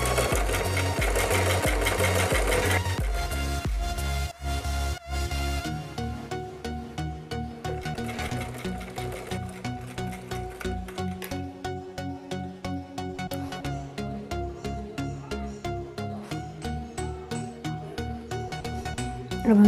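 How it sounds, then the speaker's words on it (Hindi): A sewing machine stitches baby frock fabric up close, running in rapid bursts of rhythmic needle clatter with short pauses between runs. "तो हम इस तरह से पहले पूरा सिलाई लगाएंगे।"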